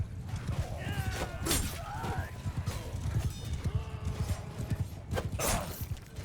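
Horse hooves clip-clop in a rapid, uneven gallop during a Mount & Blade II: Bannerlord battle, steady and fairly close. Battle clatter and a voice sound faintly through it.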